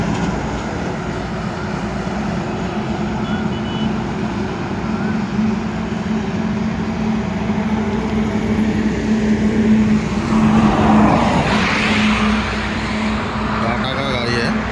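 A Tata ten-wheel container truck with Odisha plates passes on a highway, its engine a steady low rumble that swells as it nears and fades as it moves off, with wind and road noise around it.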